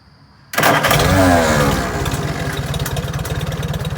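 A Farmall H tractor engine cranks and fires up abruptly after a moment of near silence, then settles into a loud, close, steady chugging idle with even rapid beats.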